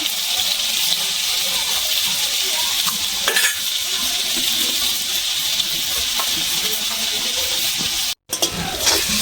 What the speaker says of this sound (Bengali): তেল গরম হয়ে গেছে, এবার আমি চিংড়ি মাছগুলো ভেজে নিচ্ছি।